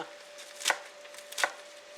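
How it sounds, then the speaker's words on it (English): Spinach being chopped roughly with a knife on a cutting board: two crisp, fairly loud strikes spaced well apart over a faint steady hum. "So I'm just chopping it rough."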